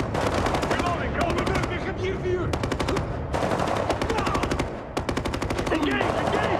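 Video game gunfire at a 2011 E3 demo, with rapid machine-gun bursts hammering loudly and almost continuously. Shouted voices cut in over the shooting.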